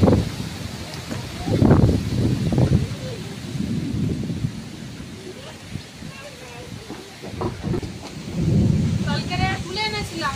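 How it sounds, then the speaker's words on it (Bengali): A strong afternoon thunderstorm brings deep rolling thunder over steady rain, with heavy rumbles swelling and fading several times; a voice-like sound is briefly audible in the background. "আর এখন তো বিশাল ঝড় হচ্ছে আর বিদ্যুৎ চমকাচ্ছে"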